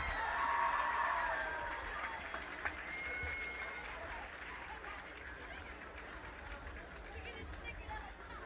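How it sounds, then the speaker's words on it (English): A crowd at an outdoor stunt show applauds and cheers, the clapping strongest at the start and then fading to a thinner, distant patter, while a voice talks over it. "Ladies and gentlemen, big round of applause."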